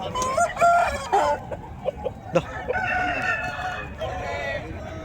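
At the Nallapadu rooster market, roosters crow loudly and repeatedly, one call overlapping the next, over a steady crowd murmur and clucking hens.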